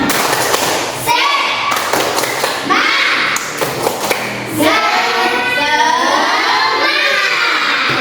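A classroom of children chants and claps the rhythmic 'tepuk semangat' together, loud overlapping young voices with thudding claps in a steady pattern, close and lively.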